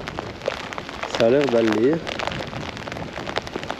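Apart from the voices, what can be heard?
rain falling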